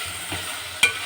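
Potatoes and peas stirred into spices frying in a pan for aloo matar sabzi, a steady soft sizzle with a sharp scrape of stirring near the end, close and alone.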